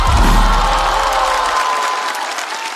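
Audience applause and cheering at a stand-up comedy show as a performer is welcomed, a loud, dense burst of clapping that tapers off slightly toward the end.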